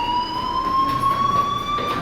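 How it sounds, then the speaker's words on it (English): Fire alarm ringing in Life is Strange, a loud continuous electronic tone held steady across the whole stretch, with no talk over it. "do you hear that fire alarm? That means you should be outside."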